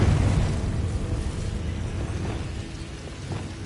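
A Confringo fire spell in the Hogwarts Legacy video game blasts with a loud, rumbling burst at the start, then its fiery crackle and low roar fade slowly over several seconds.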